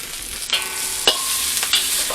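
Celery, broccoli florets and other vegetables are stirred in a hot stir-fry pan, giving a close, steady sizzle broken by sharp scraping strokes of the utensil at irregular moments.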